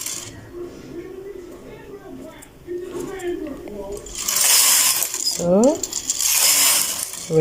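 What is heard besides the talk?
knitting machine carriage knitting rows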